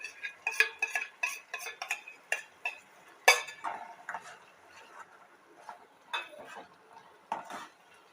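A besan (gram flour) slurry is stirred in a pan over low heat, with rhythmic close clinks and scrapes of a spoon against the metal and faint sizzling between strokes.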